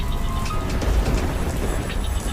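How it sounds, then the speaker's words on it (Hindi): Rain falling steadily during a village storm, a dense continuous hiss with low rumbling underneath, sounding close and fairly loud with no voices. "गांव में बारिश के साथ साथ तूफान भी आया हुआ था।"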